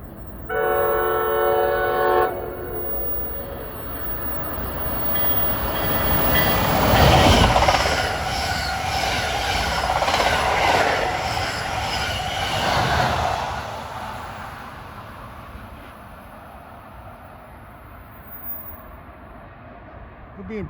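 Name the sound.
express commuter train passing, horn, New Brunswick NJ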